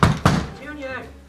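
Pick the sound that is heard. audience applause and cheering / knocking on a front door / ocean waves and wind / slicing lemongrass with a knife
knocking on a front door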